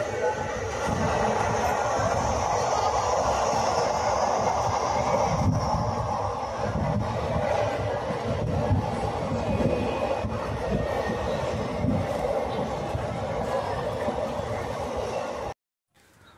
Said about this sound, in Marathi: आता परळी येथून आपली गाडी परभणीकडे जात आहे